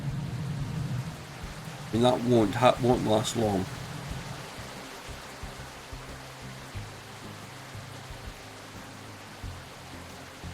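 Steady rain hiss in the video game Captain of Industry, a broad even wash running under a voice that speaks for a couple of seconds, with faint low rumbling beneath; no distinct thunder crack stands out.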